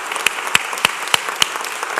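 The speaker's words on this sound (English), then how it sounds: "give them a round of applause" A handful of sparse, sharp hand claps ring out at a slow, even pace over a quiet room at a city award ceremony, as staff are called to stand and be applauded.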